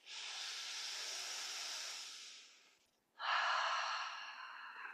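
Slow, full breathing in yoga cobra pose: one long, soft airy exhale lasting a couple of seconds, a short pause, then another breath, close and quiet, with no talk.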